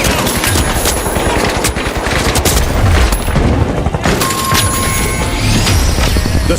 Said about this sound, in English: Smoke's out. Pyro grenade out.